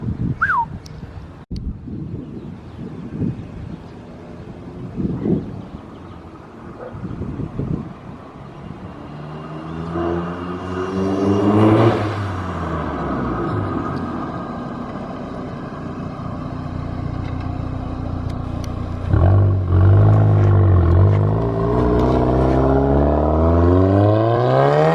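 An MK7 Golf R is heard from outside, its engine revving hard and then roaring past close by with rising, throaty acceleration over a low wind rumble, loudest near the end.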